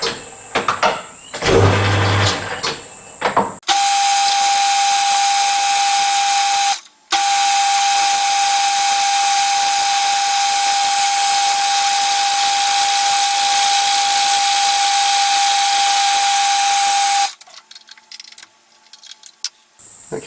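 A milling machine cuts a steam chest cover for a Stuart Turner No. 8 mill engine, a loud steady whirring cut that runs continuously, briefly stops and resumes, then winds down near the end.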